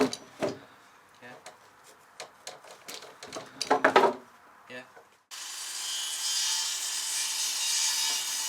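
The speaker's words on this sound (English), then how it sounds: "I've got a list of rafters now. I'm going to go and cut these." Timber roof rafters being cut by hand, bursts of rough sawing and wood rubbing with irregular strokes and knocks, then a steady broadband hiss in the second half; voices talk at times.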